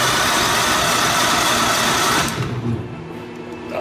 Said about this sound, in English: Just fire it up here and I'll see what it does.